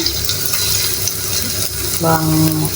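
Garlic sizzles in hot cooking oil with a constant, close crackling hiss. A faint tonal hum creeps in near the end.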